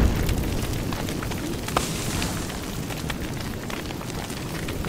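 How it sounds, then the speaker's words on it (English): Crackling, roaring fire spreading through a forest in the game Don't Starve Together, a steady dense rumble with scattered pops and one sharper snap, continuous throughout. "You're making forest fire."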